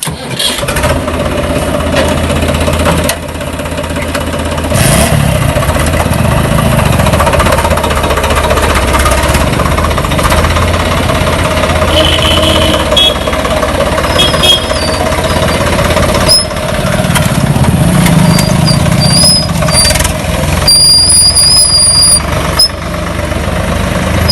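A tractor engine runs loudly and close by the whole time, chugging and knocking steadily with a rattling edge.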